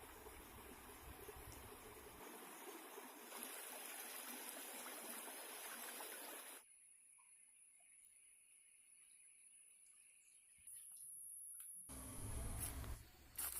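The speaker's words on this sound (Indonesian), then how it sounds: "kami sudah melihat aliran air dari air terjun tersebut" Water runs from a waterfall down a forest stream, a steady, faint rushing and trickling that fades partway through and then returns louder near the end, with no voices.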